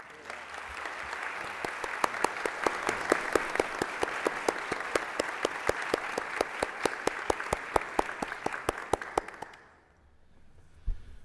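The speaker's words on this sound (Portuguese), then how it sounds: "Peço a todos uma salva de palmas." Audience applause for a state governor at an evening event on information-society policy, a dense, even roll of many hands clapping for about nine seconds before quickly dying away into near quiet.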